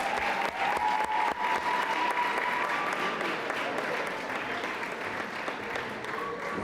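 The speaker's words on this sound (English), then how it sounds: "please welcome Dr. Andre Horton with a round of applause" Steady audience applause for a keynote speaker at a high school valedictory service, sustained and even throughout with a faint voice briefly audible above the clapping.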